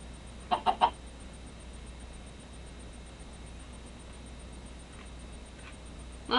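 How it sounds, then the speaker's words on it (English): Chickens in the video game Minecraft give a few short clucks, a quick cluster of three early on and fainter ones later, over a steady low background hiss. "I hear chickens."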